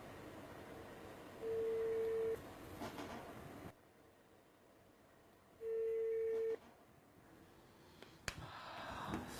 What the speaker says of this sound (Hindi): सर, उनके फ़ोन पे बेल जा रही है और वो फ़ोन पिक नहीं कर रहे।